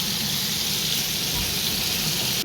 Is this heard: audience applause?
no